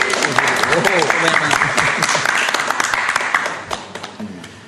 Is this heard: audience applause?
yes